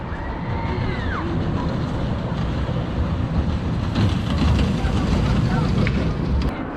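The Mr. Freeze roller coaster at Six Flags Over Texas runs a bit sluggishly: a loud, continuous rumble of wheels on track with rushing wind, heard up close throughout.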